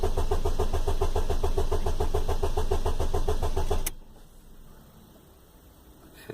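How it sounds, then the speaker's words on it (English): A Ford car engine cranks over on a weak battery, a rapid rhythmic chugging of the starter for about four seconds that then cuts off abruptly, leaving a quiet hum. "That's us cranking over. The battery doesn't sound the greatest actually."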